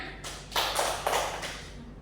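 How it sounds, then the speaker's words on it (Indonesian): Schoolchildren in a classroom give a short round of applause for a classmate: about two seconds of dense, scattered clapping with a couple of swells, fairly close and loud, with no talking over it. "Beri aplaus kepada temannya."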